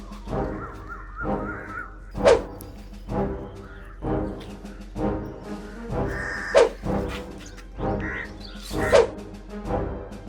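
Dogs chase someone, barking in loud repeated bursts about every second, with harsher yelps standing out now and then over a low background hum.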